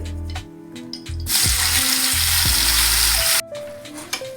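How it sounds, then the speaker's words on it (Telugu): Tomatoes frying in oil in a pan, a loud burst of sizzling that rises suddenly and holds for about two seconds, framed by clinks and scraping before and after. "దీనిలో ఇంకొంచెం ఆయిల్ వేసుకుని టొమాటోలు కూడా వేయించుకోవాలి."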